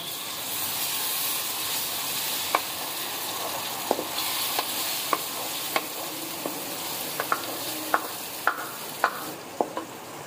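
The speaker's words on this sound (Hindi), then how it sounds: "लहसुन अदरक को हमने मिक्स कर लिया है और हल्का सा भून लिया है" Garlic ginger paste frying in a pan for aloo keema, a steady close sizzle and hiss broken by sharp scraping clicks of a spoon stirring at irregular intervals.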